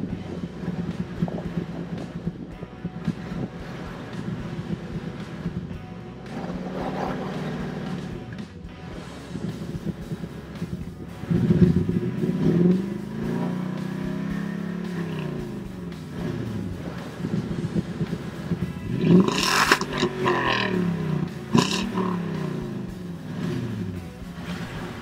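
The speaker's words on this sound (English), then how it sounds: "And this is what the exhaust sounded like after the installation." A 2017 Toyota Tundra with an MBRP cat-back exhaust rumbles steadily, its deep tone swelling in a few revs that rise and fall over the running engine, with no voices.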